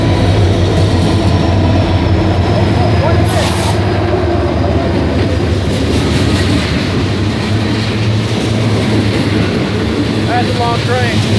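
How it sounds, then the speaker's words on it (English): A long train rolls past nearby, a loud, continuous rumble with rhythmic clatter of the cars and a brief high squeal partway through. "That's a long train."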